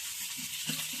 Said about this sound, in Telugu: నేను చపాతి కాలుస్తున్నాను.